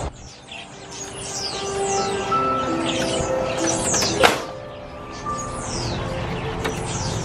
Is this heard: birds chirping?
yes